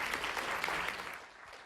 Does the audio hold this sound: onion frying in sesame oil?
no